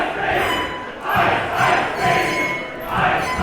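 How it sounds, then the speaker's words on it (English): A wrestling crowd at an independent show jeers and boos a heel wrestler in loud, rolling waves of voices that swell and fade over a few seconds. "And the crowd letting him have it."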